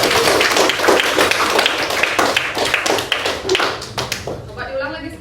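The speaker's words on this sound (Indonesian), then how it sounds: "Oke, tepuk tangan untuk Rati." Pupils in a fourth-grade classroom clap for a classmate named Rati, a loose burst of uneven hand claps that thins out and fades toward the end, with voices mixed in.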